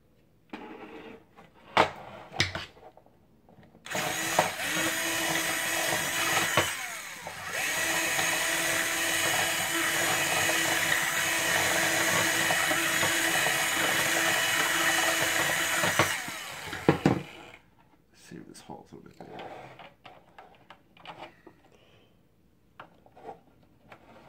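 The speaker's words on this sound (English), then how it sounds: "So I'm going to make this hole bigger." A small power tool bores a hole larger in a drone antenna mount part, giving a steady high whine for about twelve seconds, framed by short clicks and handling knocks before and after.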